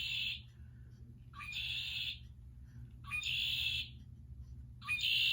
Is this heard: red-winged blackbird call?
yes